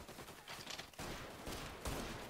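Bursts of gunfire from the Mafia video game, with overlapping shots from an enemy firing from up top, forming a dense, loud barrage in irregular volleys that swell near the end.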